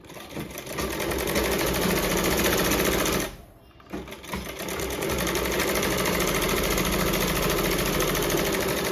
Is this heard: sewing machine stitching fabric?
yes